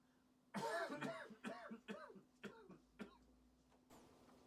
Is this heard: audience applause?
no